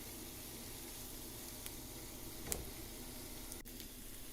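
Chopped onions frying with turmeric in a pan for a salmon fish curry, a steady even sizzle with a couple of faint clinks partway through.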